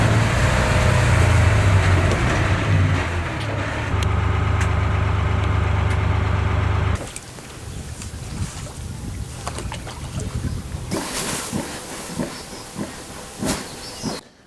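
A boat engine runs in a flooded village where the water is more than waist deep, first a loud steady drone, then a quieter, rougher rumble with splashing water and wind.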